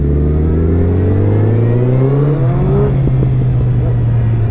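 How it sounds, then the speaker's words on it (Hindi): A Suzuki Hayabusa and a Kawasaki Z900 with aftermarket exhausts revving hard nearby before a race, their loud, continuous engine roar climbing in pitch and then holding at a high drone. "ये सभी बाजी मेरे आगे थ्रॉटल बार बार जान बुझ के दे रहे हैं"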